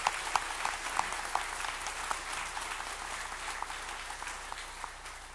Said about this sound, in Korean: 우리 힘찬 박수로 한번 축복하겠습니다